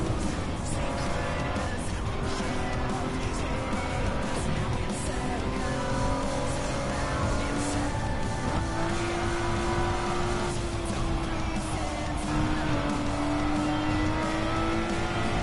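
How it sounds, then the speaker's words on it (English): A Mazda Miata race car in a PS4 racing game pulls away with a steady engine drone rising in pitch through gear changes, plus faint tire squeal, heard at moderate level without talk. "That little Miata's pulling away."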